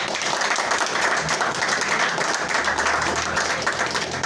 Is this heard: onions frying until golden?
no